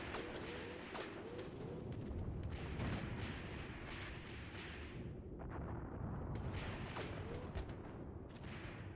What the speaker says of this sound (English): Heavy MG firing back at us, man.